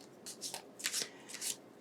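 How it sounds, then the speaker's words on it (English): A deck of tarot cards is shuffled by hand in several quick riffling bursts, each a crisp papery flutter, close up with no talking. "I just give this deck a shuffle like this to start off your reading"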